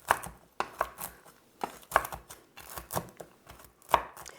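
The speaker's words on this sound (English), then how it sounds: "Need to chop yours, but these are pecan halves." Pecan halves chopped into smaller pieces with a knife on a board for a sweet-and-salty Christmas crack treat: a run of crisp, close knife strikes, some sharper than others, with no talking.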